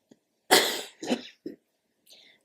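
A person lets out a short cluster of coughs, one harsh burst followed by two smaller ones and a faint wheezy breath, close and alone in a quiet room.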